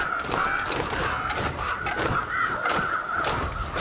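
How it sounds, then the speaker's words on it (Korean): Crows caw repeatedly in the video game The Long Dark, harsh calls heard against a constant windy outdoor background. "까마귀 소리가 막."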